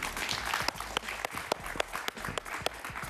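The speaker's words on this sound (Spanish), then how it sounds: "Un aplauso para el gran Antolín, por favor" Studio audience applauding a Peruvian comedian on a talk show, a steady dense patter of claps with a few sharper individual claps standing out, fairly close and continuous throughout.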